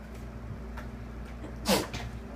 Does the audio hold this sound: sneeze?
yes